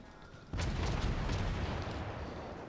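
Heavy guns of a warship firing shells in a naval battle game, a deep booming roar that starts abruptly and rolls on continuously as overlapping blasts, loud and close with no talking.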